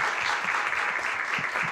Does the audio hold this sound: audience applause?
yes